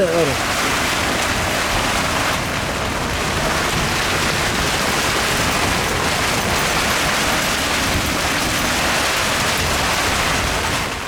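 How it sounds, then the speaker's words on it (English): Heavy storm rain pours in a dense, steady roar with gusting wind, and thunder rumbles low beneath it; the downpour stays loud and continuous throughout, with no voices heard. "I'm trying to capture the lightning and the cracking of the thunder"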